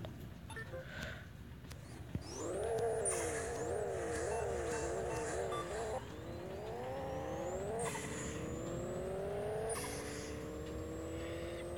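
A Pixel Car Racer car with a JZ engine revs and shifts through gears, its exhaust note rising in pitched steps, loud and continuous with no talking.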